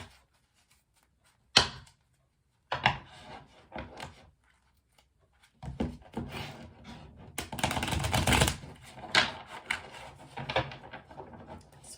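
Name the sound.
clunk of tarot stones dropped on the floor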